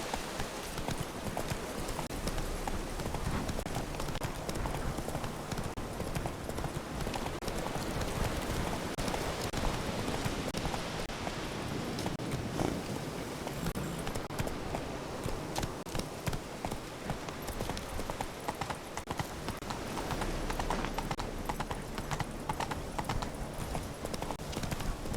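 Roach, the horse from The Witcher 3, gallops with continuous rapid hoofbeats thudding close and loud, a faint whinny surfacing amid the game's ambient sound.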